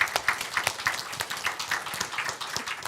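Conference audience applauding at a Baltic Pride event, a quiet, even patter of many hands clapping at a steady pace, heard from some distance for a few seconds.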